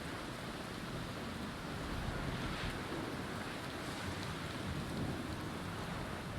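Stormy sea in Pillars of Eternity II: Deadfire, with steady crashing waves and rushing wind forming a dense, continuous roar that holds loud and even throughout, with no voices.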